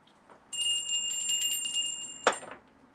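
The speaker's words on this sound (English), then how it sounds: "Where's my bell?" A small hand bell rings with a sustained bright tone for about two seconds, followed by a sharp louder strike near the end, with no talking.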